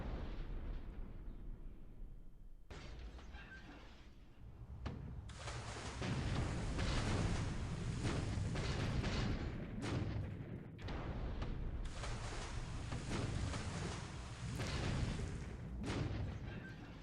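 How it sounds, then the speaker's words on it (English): A deep rumbling underwater explosion in the naval war game War in the Pacific, heard as several heavy, sustained roaring bursts that swell and fade over the span, loud and without talk. "Underwater explosion, debris, and oil appear on the surface."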